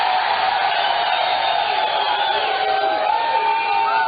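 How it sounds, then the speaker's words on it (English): A packed nightclub crowd cheers and whoops loudly and continuously, dense shouting voices blending into a steady roar with no pause. "Look at the goddamn crowd here."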